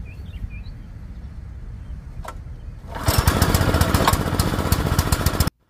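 A Billy Goat PR550-H dethatcher power rake sits at a low idle, then its engine and rake engage into a loud, steady, rattling roar close by before cutting off abruptly.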